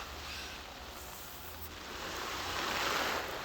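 Steady broadband hiss of water spraying onto an eight-person OlPRO Wichenford tent during a leak test, a continuous rushing wash that swells slightly louder toward the end, with no voices.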